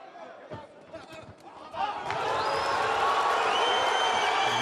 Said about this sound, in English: Listen to the crowd get into it.